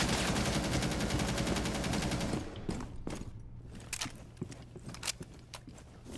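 Rainbow Six Siege gunfire: a long, rapid, steady burst of automatic fire, then scattered sharp shots, clicks and footsteps of varying loudness.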